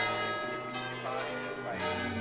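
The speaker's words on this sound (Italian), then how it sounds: "Siccome le campane suonano vuol dire che stanno annunciando l'inizio di questo secondo appuntamento della giornata" Church bells ringing for a religious festival procession, overlapping metallic tolls with long ringing tones, fairly loud and continuous throughout.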